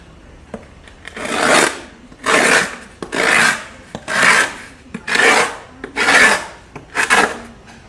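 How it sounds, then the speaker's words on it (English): An old chisel scrapes and scores a plywood surface during a wooden boat repair, in seven loud, rasping strokes of about half a second each, evenly spaced and close, with no talking. "So here's an old chisel. All we want to do is score the ply."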